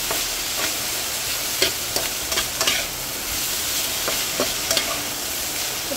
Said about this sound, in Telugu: వేసుకుని బాగా కలుపుకోవాలి.